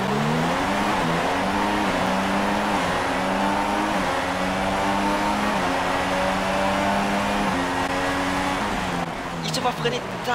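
Formula 1 cars in the F1 2016 video game rev at the start of a race, a loud continuous engine drone with rising and falling pitch steps, under a voice talking.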